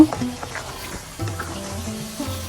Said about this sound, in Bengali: আমি সরষার তেল দিয়ে কিছুক্ষণ ভেজে নিচ্ছি